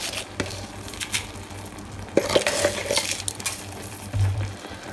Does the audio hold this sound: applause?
no